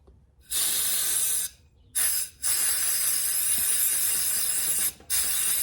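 Cleaner sprayed onto the carburetor of a Stihl MS180C chainsaw: three close, loud aerosol hisses, the first about a second long, a brief puff, then a long spray, each separated by short silences.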